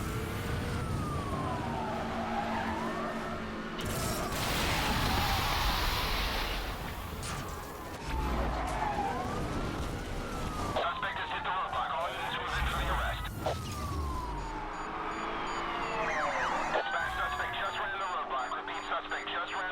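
A police car siren in a video game wails in repeated rising and falling sweeps over engine and traffic noise, continuous and fairly loud, with a voice talking over it.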